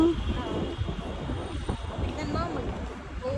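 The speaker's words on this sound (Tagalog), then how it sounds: "Mahangin siya ngayon, ah." Steady wind buffeting the microphone with a low rumble throughout, while a person talks nearby.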